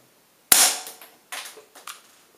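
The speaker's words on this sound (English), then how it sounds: "And then you can obviously fire the gun." A Colt 45 BB pistol fires one sharp, loud crack, followed by a few fainter clicks and clacks of handling, close up in a quiet room.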